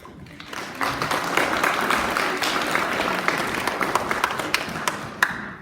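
An audience at a Year 6 graduation awards ceremony claps for the award recipients, a sustained, fairly loud wash of many hands clapping at an even level for several seconds, with a few sharper individual claps near the end.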